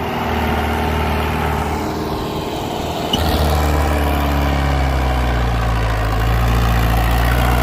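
A Sonalika 740 tractor engine pulls up a slope, a loud, steady low diesel rumble with heavy vibration that holds throughout and builds slightly toward the end, with no voices.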